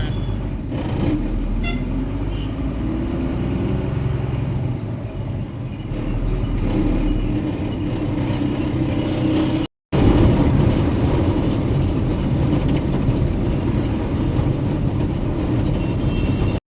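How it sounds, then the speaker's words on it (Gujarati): Busy city traffic on a road in Pune, heard from inside a moving loaded truck: a steady, loud low rumble of engines and road noise with scattered horn-like tones, interrupted by a brief cut midway. "જો ભાઈ પુના ટ્રાફિક"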